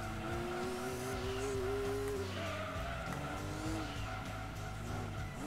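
Race car in Gran Turismo 2 understeering through a corner, tires squealing loudly and continuously over a droning engine, the pitch dipping and recovering midway.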